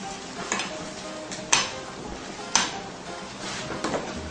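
A spoon stirs vegetable lasagna filling seasoned with salt, oregano, Italian spices and black pepper, giving soft scraping strokes and a few light clinks against the bowl, quiet and unhurried.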